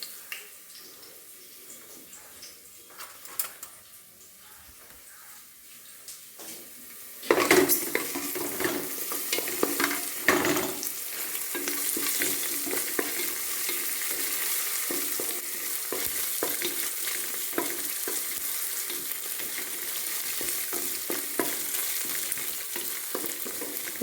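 Food frying in a pan and being stirred with a spatula: quiet scattered clinks at first, then a sudden loud, continuous sizzle with rough scraping strokes that carries on close by without talk.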